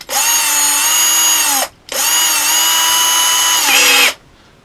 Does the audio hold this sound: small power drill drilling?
yes